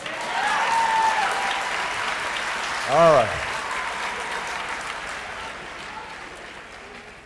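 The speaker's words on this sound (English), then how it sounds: "Give them a round of applause." Steady applause from a crowd at a political speech event fills the whole stretch, with a brief spoken voice cutting through near the middle.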